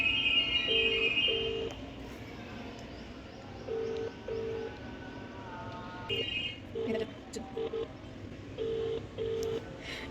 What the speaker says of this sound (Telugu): ఇప్పుడు అక్క వాళ్ళకి ఒకసారి ఫోన్ చేస్తా ఈ నెంబర్ నుంచి వాళ్ళు ఉంటే వీడియో కాల్ చేస్తా